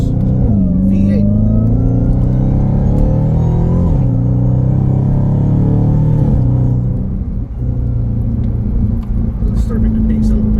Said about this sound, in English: I'm going to pause here a little bit to make you hear this glorious V8.